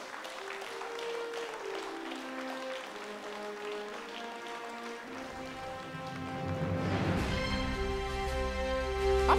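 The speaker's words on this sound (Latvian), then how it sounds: "Aplausi." Applause rises from the audience at a regional award ceremony, a soft patter of hands that thickens and grows louder toward the end beneath background music.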